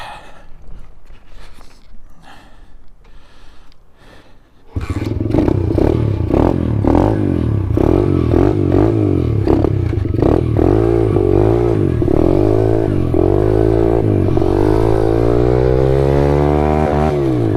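An SSR pit bike engine idles roughly before starting loud at about five seconds, then revs up and down repeatedly through the gears while riding, close and harsh with no talk.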